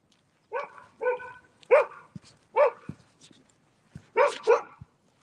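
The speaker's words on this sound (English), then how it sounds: "Look at that dog." Dog barking outdoors: a series of about seven sharp, fairly close barks in irregular bursts with short pauses, some paired, and quiet gaps between.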